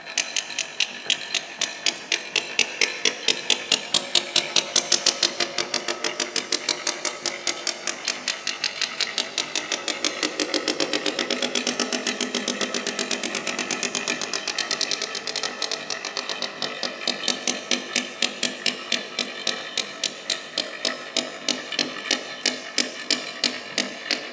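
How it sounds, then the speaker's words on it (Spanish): A boat's engine runs steadily beneath a hydrophone underwater recording, a dense, rapid rhythmic clatter of pulses that stays loud and even throughout. "Lo que sigue de fondo es el motor de nuestro barco"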